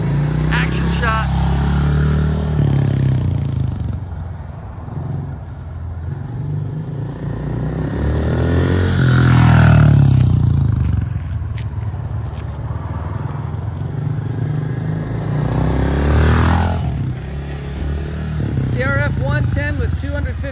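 A 2021 Honda CRF110F dirt bike carrying a heavy rider rumbles past, its small engine swelling and fading in several revving passes, with scraping and voices chatting over much of it.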